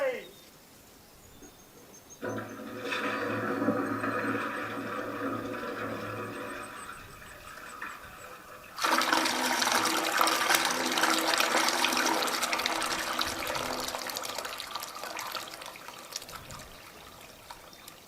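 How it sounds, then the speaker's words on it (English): A Toto toilet is flushed during a test: a rushing swirl of water starts, then grows to a louder, sustained gurgling drain and refill that fades slowly, close by. "I gave this good old Toto toilet a pretty good test"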